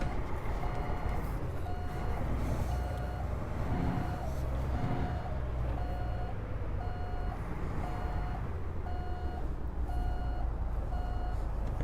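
Reversing beeps from a Freightliner Argosy truck in American Truck Simulator repeat at a steady, evenly spaced rhythm over a continuous low diesel engine rumble throughout.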